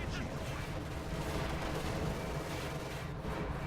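Company of Heroes 2 battle with a machine gun bunker firing at tanks: dense, continuous rattling gunfire and booming explosions fill the whole stretch at steady loudness, with a voice faintly under the din.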